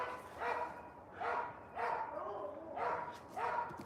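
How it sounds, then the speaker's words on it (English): Dogs bark repeatedly at a moderate distance, five distinct barks spaced roughly evenly apart. "Maybe we should go see what the dogs are barking at."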